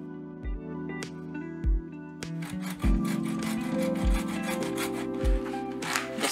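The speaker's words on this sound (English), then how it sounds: "saw cuts easily through the dried up fibers" Repeated rasping folding-saw strokes through dried, fibrous yucca trunk, a steady back-and-forth rhythm with thumps at each stroke, close and fairly loud.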